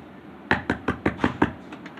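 Knocking on a wooden door: six firm, evenly spaced raps close by, each a sharp thud, with no talking over them.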